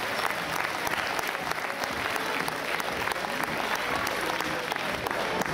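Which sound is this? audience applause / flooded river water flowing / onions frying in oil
audience applause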